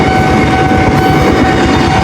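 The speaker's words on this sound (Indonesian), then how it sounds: "KRL arah Bekasi jalur" A KRL commuter train bound for Bekasi rolls past loud and close in Jakarta, a dense rumbling roar of wheels on rails with a steady tonal whine running throughout.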